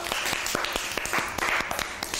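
A group of anganwadi workers at an induction training session claps in quick, sharp, fairly regular beats, close and lively, with voices chattering over the clapping.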